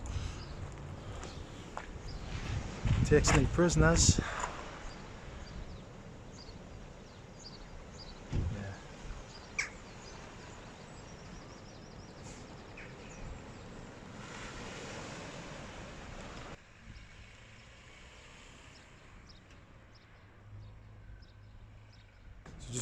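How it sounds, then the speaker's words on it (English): Big ocean waves roll in and break along the Northumberland coast near Craster, a steady broadband surf wash with wind noise buffeting the microphone and a brief louder surge early on. A voice briefly speaks. "Some big waves coming in over here."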